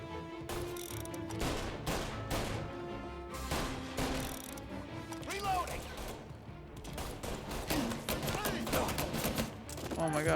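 Gunfire in the Mafia video game crackles in dense, rapid bursts with heavy overlapping shots and impacts, loud and continuous throughout, while a voice talks intermittently underneath.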